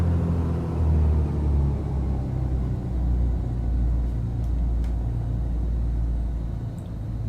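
Steady low engine drone of a Baron twin-engine aircraft idling at 1000 RPM in a flight simulator, a loud continuous rumble with no talk over it.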